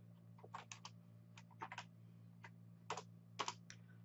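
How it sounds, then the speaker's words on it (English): Typing on a computer keyboard while entering BASIC program lines on a Commodore 64, with quiet irregular bursts of key clicks over a steady low electrical hum. "So now we can safely go ahead and start typing in the next lines here."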